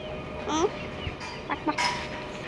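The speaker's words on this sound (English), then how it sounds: "Kaylee wanted to come and say goodbye to the Fluffy Butt Hut chickens who she's been friends with." A few short clucks and squawks from chickens nearby in the Australian outback, sparse and intermittent against a quiet outdoor background.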